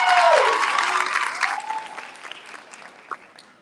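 An audience at a high school graduation ceremony breaks into dense applause, loud at first, then fading to scattered claps, with a voice speaking briefly over it.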